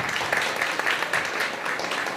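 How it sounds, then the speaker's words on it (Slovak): An audience at a panel discussion on soft and hard skills and team moderation gives a guest a big round of applause, dense continuous clapping filling the room evenly throughout. "nech sa páči, veľký potlesk"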